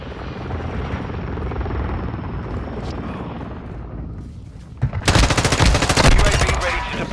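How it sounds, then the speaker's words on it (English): Friendly overwatch helicopter in the Modern Warfare 2 multiplayer game, a loud steady rotor thrum overhead, then bursts of rapid machine-gun fire crackle in over the final seconds. "Friendly Overwatch helo in the area."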